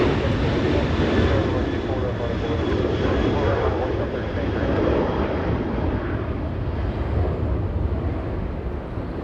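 A Boeing 757 departing Los Angeles International Airport, its jet engines giving a loud, close, sustained roar with a broad rumble that eases slightly toward the end, while a voice speaks over it.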